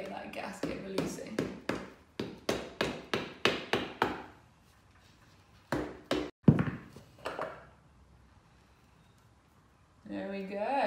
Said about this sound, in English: Mallet just to tap this nice and evenly until we get that gasket releasing.